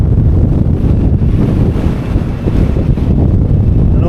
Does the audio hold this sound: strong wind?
yes